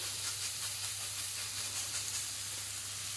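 Two burgers laid into a hot non-stick pan: a loud, steady, close sizzle and hiss that runs without a break over a low constant hum.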